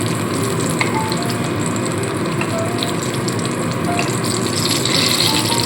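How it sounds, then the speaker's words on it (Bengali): Eggplant slices fry in hot oil with a dense, constant sizzle and crackle that holds steady throughout, close up and with no voices. "এবার হালকা কালার হলেই কিন্তু বেগুনকে আমি তুলে নেবো দেখুন এখানে কালার চলে এসছে বেগুনগুলো কিন্তু সম্পূর্ণ ভাজা হয়ে গেছে"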